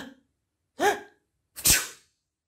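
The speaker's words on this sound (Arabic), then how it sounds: "عطس العم توفيق وطارت البزرة" An older man sneezes in a narrated children's story: a short breath, a rising drawn-in 'ah', then one loud, explosive sneeze, all isolated against silence.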